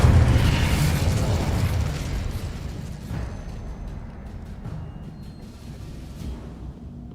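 A fiery Incendio spell cast in Hogwarts Legacy bursts out as a loud whooshing blast that slowly fades into a crackling, rumbling tail.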